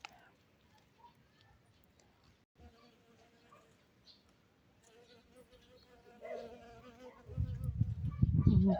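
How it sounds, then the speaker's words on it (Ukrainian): Bees buzz around cornflower blossoms, a soft hum at first that grows much louder and closer toward the end, as if an insect passes near. "Бджілки працюють невпинно."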